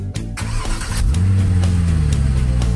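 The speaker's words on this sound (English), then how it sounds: "Put the key up and it will start normally." A car engine cranks briefly and catches, settling into a steady, loud idle close by after starting with the emergency key position despite a dead key battery.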